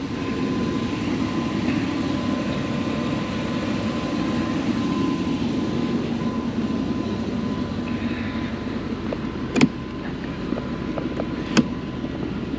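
Steady low rumble of a 1995 GMC Sierra 1500 Z71 pickup engine idling and building as it accelerates, fairly subdued and continuous, with a couple of sharp clicks near the end.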